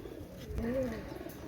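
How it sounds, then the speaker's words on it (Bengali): A single pigeon coos softly at a Pakistani pigeon fair, one short rising-falling call over a low murmur of crowd background. "অনেক সুন্দর কবুতর মাশাল্লাহ"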